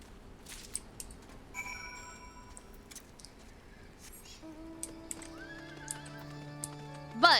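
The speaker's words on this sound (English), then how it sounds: "It's a horsey, and I like it." A horse in the video game Final Fantasy XIV gives a clear neigh and whinny over scattered clip-clop hoofbeats, with game music tones and chimes layered beneath, the loudest whinny rising near the end.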